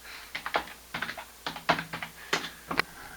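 Keys on a computer keyboard clack in short quick bursts, several presses grouped together with brief pauses between, close and fairly quiet.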